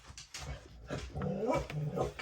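A little dog barks and growls outside in a neighbour's yard, several short rough yaps in quick succession at moderate distance, heard over a quiet indoor room.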